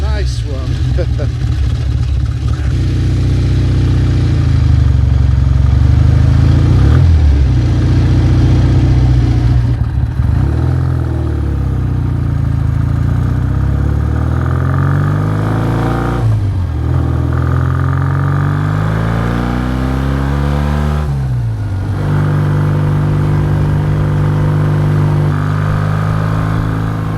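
A classic BSA A10 motorcycle engine running on a ride, a loud, close, steady mechanical drone that repeatedly rises and falls in pitch as it accelerates and shifts, with occasional voices over it.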